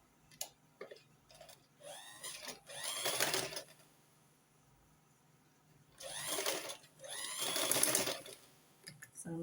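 Sewing machine stitches an underbust corset in two bursts of rapid, whirring needle runs separated by a quiet pause, with a few small clicks of handling, close and moderately loud.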